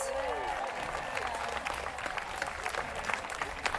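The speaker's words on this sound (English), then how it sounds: "Give them a round of applause." Crowd applauding a student and medical-student contingent at a Palm Sunday refugee rally in Sydney, steady dense clapping with cheers mixed in, loud and continuous throughout.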